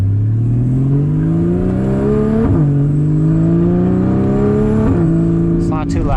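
A Porsche 981 with a Soul Performance competition exhaust, valves open, heard from inside the car with the windows up as it accelerates through gears in loud rising sweeps, with two clear shift dips; a voice talks over it.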